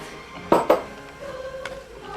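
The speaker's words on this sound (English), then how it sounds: "if you still got excess around the bowl, use a spatula or a spoon" A spatula or spoon works leftover chocolate chip cookie mix around a mixing bowl, giving two quick, sharp scrapes close together against a faint background, with no talking.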